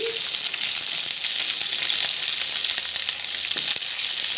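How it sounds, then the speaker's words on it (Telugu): Ivy gourd and curry leaves fry in hot oil in a tempering pan, making a loud, dense, continuous hiss with faint stirring knocks near the end. "బాగా వేగాక కరివేపాకుని తీసుకోండి అలాగే దొండకాయలను కూడా ఇందులో యాడ్ చేసుకోవాలి"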